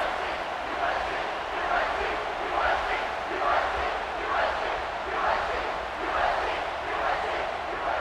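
Stadium crowd in College Football 26 at a Kentucky vs South Carolina game, a dense roar of many voices rising and falling in rhythmic chant-like swells, loud and continuous.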